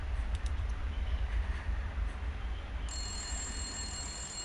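A telephone in Resident Evil Village starts ringing partway through, a thin steady electronic ring over a low rumbling ambient drone.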